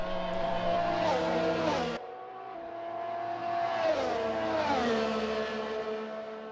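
Race cars lap Suzuka in a racing game, their engines whining loud and close with rising and falling revs through gear changes, one sharp cut-off and a car sweeping past.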